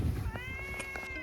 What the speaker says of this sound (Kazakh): мияқта қара мысықтың дауысы шығып тұр